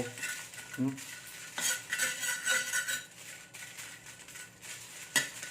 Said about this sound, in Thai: จะให้กระทะมันร้อนก่อนพริกใส่